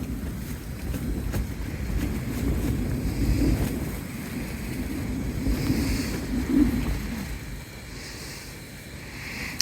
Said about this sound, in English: I'd rather have this wind going because it's definitely keeping the midges away